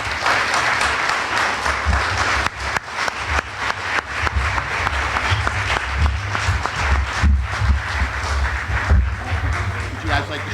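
Dense applause fills a primary debate hall as the candidates walk onto the stage, steady clapping from a large audience with a low hum beneath and scattered cheers throughout.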